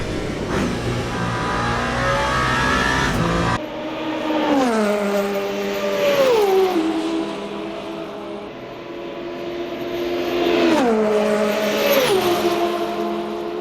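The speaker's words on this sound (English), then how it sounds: "Seventh gear is just way too big. The engine doesn't even rev up." A race car engine in the Le Mans Ultimate video game, stuck in seventh gear during a 24 Hours of Le Mans race, drones loudly and bogs, rising in pitch slowly through repeated gear shifts, with no talk.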